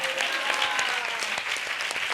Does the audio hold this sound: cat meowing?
no